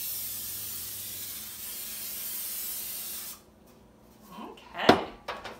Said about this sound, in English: And Callie, the first step is we need to spray our baking sheet